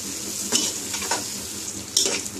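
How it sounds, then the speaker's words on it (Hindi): Chopped onion with coarsely crushed garlic and ginger sizzles steadily in a hot pan for teendai sabzi, broken by a few sharp scrapes and clinks as a spoon stirs it. "अब इसको हम सौते करेंगे।"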